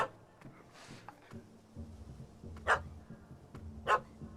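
Dog barking in The Witcher 3, a few sharp barks and yips spaced over a few seconds against a quiet background.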